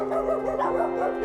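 Dogs at a private animal shelter in the mountains, home to some 460 mostly abandoned dogs, bark, yip and whimper in a busy overlapping chorus, near and constant.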